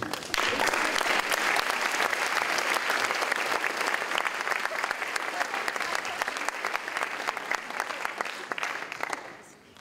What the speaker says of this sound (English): And one more round of applause to that group.